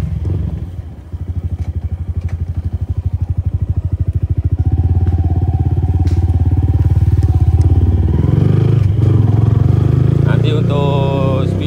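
Yamaha Y16 motorcycle fitted with a fiber swingarm, ridden on the road: a steady, rapid engine pulse that rises in pitch as it speeds up, close and loud, with some clatter and thumps over bumps near the end.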